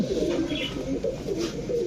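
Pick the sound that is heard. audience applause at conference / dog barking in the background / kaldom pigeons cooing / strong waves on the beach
kaldom pigeons cooing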